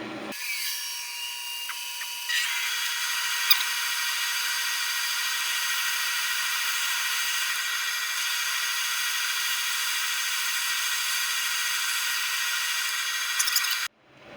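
A small bug-holed wooden pot spins on a lathe while a tool works its surface, making a steady, close abrasive hiss that runs unbroken for about twelve seconds with no talking.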